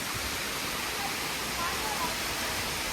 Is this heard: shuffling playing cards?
no